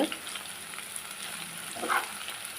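Sliced okra frying in oil in a pan with masala until golden brown, a steady soft sizzle with occasional light stirring, close and even, no voices.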